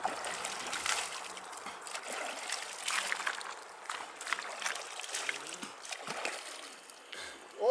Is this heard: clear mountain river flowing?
yes